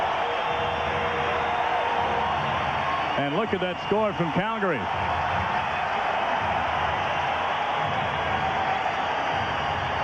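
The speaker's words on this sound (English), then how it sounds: "Listen to this crowd." A capacity hockey arena crowd roars steadily during a 1993 Toronto vs Detroit playoff game, a broad sustained din under a commentator's voice, with a brief burst of whistles or horns partway through.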